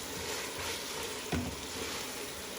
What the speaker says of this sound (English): I'll give it a nice stir